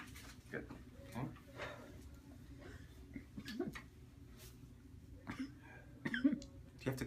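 A patient on a chiropractic table coughs a few times in a quiet treatment room, short dry bursts close to the microphone with faint voices and rustling between.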